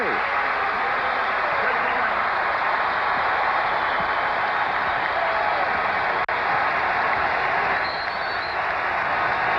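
Basketball arena crowd at a North Carolina college game roars and applauds in a loud, sustained wall of cheering that barely dips across the stretch, with one sharp click partway through.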